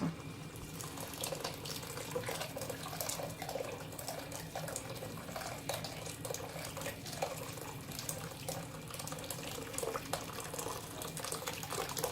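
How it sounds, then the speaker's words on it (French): Boiling water pours steadily into a pot of chili con carne, a continuous, close splashing rush with no pauses and no talking. "Je vais rajouter un petit peu d'eau. Bouillante, bien sûr."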